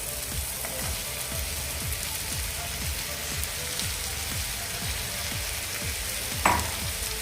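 Pea peels frying with spice masala in a pan make a continuous close sizzle, with regular stirring strokes throughout and a brief clink near the end.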